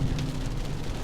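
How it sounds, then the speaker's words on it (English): Heavy rain pours during a drive on winding ghat roads in Coorg, a dense, loud, steady wash of noise with a low rumble underneath, lasting about a second. "the rain is just pouring like crazy"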